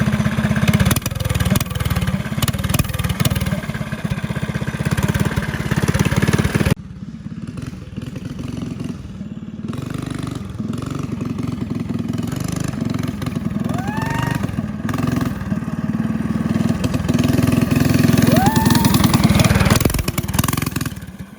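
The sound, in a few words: go-kart engine revving with loud exhaust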